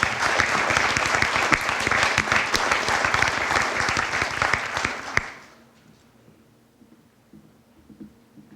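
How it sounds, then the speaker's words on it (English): A big round of audience applause for a high school golf team at a spring sports awards event, dense sustained clapping for about five seconds that then drops off to quiet room murmur. "Now let's hear it one more big round of applause for the Golf Dream Team 2014"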